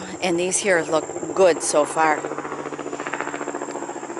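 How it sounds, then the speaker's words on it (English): A helicopter flies over a neighbourhood vegetable garden in Wisconsin, heading to a nearby private landing pad, its rapid rhythmic rotor chop pulsing steadily beneath someone speaking nearby and continuing after she stops. "That is a helicopter."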